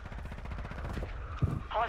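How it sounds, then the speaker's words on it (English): Gunfire in a video game, a short burst of muffled rapid shots with one sharper crack near the end, sitting fairly low in the mix beneath game ambience. "He's shooting."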